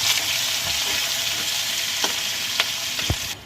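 Chopped onion with cinnamon sticks and cardamom frying in hot oil, a loud, steady sizzle with a few soft scrapes of stirring near the end.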